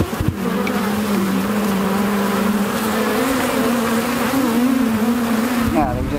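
Honeybees being brushed off honey frames during a harvest buzz in a loud, dense, sustained drone with wavering pitch, close to the listener and continuous throughout.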